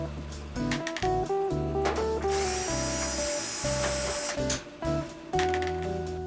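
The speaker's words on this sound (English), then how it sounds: "the hex bit socket on my drill was conveniently the right size for the hex head on these screws" A cordless drill fitted with a hex bit socket whirs in repeated short bursts, backing out hex-head screws from a clothes washer's back panel, with steady motor whine and brief pauses between screws, close and loud.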